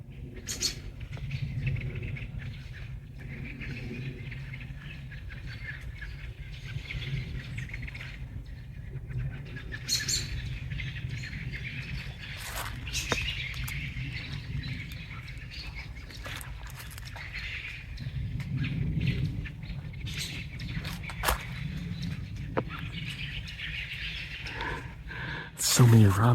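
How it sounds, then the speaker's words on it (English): Robins give brief, faint chirps on a leaf-covered hiking trail on the Allegheny Front, scattered calls over a steady soft outdoor background, with quiet rustling throughout. "So many robins."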